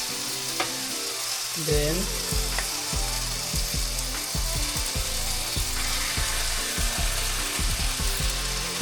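Potatoes and tomatoes frying in a pan, a steady close sizzle with scraping and stirring clatter throughout, a voice speaking briefly under it.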